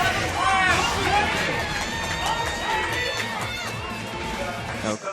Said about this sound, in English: Crowd really turning up for the games that we have here on stream.